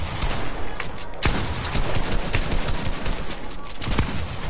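Rapid automatic gunfire in a first-person shooter video game, a loud, steady stream of sharp shots with little pause throughout.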